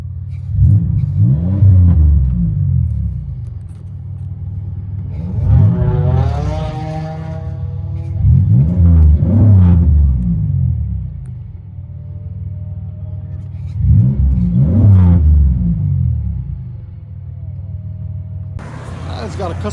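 A 2004 Chevrolet Impala with a 3800 V6 and a Netami resonator revs its exhaust in repeated bursts, each a deep rising rumble that drops back to a steady idle, loud and close.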